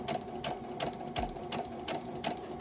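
A sewing machine stitches piping onto a wax-print cotton cushion cover, running in a steady fast rhythm of needle strokes with short regular pulses throughout, close and alone.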